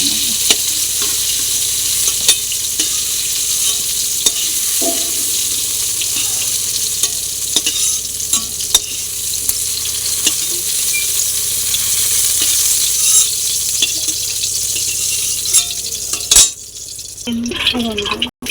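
Oil frying in a pan for a fish curry with potato and eggplant, a continuous close sizzle with occasional clinks and stirring scrapes, and a sharp clatter near the end.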